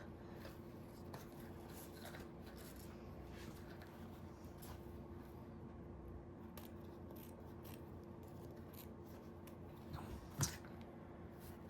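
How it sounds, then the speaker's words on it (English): Scissors snip a piece of ribbon in a quiet room, soft rubbing and handling sounds leading to a brief, sharp cut near the end. "let me cut off a piece"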